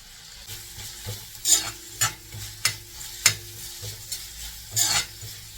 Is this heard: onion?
yes